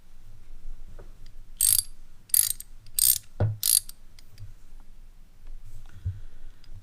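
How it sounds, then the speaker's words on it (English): A cheap Harbor Freight socket set ratchet clicking in four short, crisp bursts of rapid pawl ticks, close and clear against a quiet background with a few faint handling knocks. "I'm gonna say the ratchet's okay."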